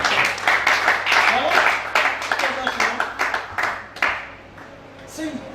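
A church congregation in Libreville breaks into lively applause, sharp overlapping claps in a loose rhythm that swell, then thin out and fade toward the end, with voices talking over the clapping.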